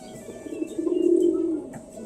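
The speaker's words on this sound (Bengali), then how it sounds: "এই পায়রাটা ভালো খেলাও আছে আর ভালো উড়েও বেড়ায়" A domestic pigeon gives a single close, soft, throaty coo lasting about a second, swelling and then fading, with no voices around it.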